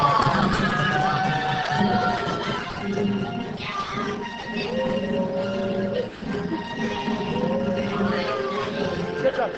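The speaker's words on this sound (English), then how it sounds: "And everyone cheer!" A crowd cheers and shouts together, a dense, sustained wash of many voices at fairly close range that continues steadily without pause.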